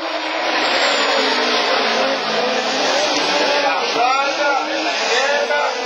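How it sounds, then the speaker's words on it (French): A Citroën DS3 Super 1600 rallycross car at a 2011 race, its engine roaring loud and continuous at high revs under excited race commentary. "la DS3 a un moteur d'enfer, oui c'est vrai"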